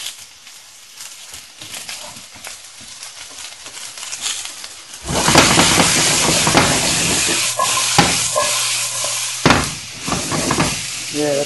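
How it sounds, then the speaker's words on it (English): Diced onions drop into a hot pan for lasagna and start a loud, steady sizzle that carries on to the end, with a few clinks and stirring scrapes, after a quieter stretch of kitchen noise. "Throw in some of those onions in there."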